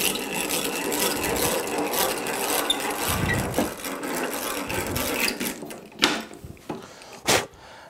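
A hand drill bores pilot holes just under an eighth of an inch into wood for a display shelf, giving a scratchy, grinding rasp in uneven bursts, followed by a few sharp knocks and taps near the end.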